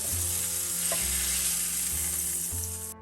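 Chicken pieces fry in butter in a pan over a gas flame, a close, steady sizzle that crackles continuously from start to finish.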